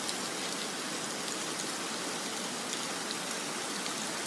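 Heavy warm rain pours steadily in Sharm el-Sheikh, Egypt, a dense, continuous hiss of drops hitting surfaces with no breaks or voices.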